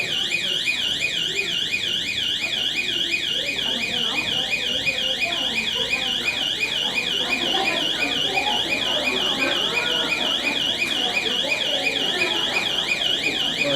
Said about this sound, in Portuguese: sobre desarmar o alarme